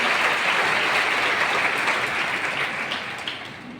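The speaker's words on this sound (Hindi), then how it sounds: "तो एक बार जोर से आपके सहपाठियों के लिए तालियां बजा दीजिए।" An audience applauds classmates after a school play, a dense wash of clapping that starts strong and gradually fades over a few seconds.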